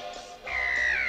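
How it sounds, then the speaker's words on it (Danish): A single seagull lets out a harsh, drawn screech near a seaside hotel, brief and fairly close, with no voices over it. "Og hvad skriger den måge der så nu?"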